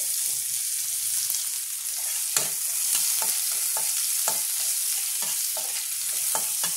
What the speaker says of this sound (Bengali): এবার দিয়ে দেবো পেঁয়াজটা, দিয়ে দেবো রসুন কুচিটা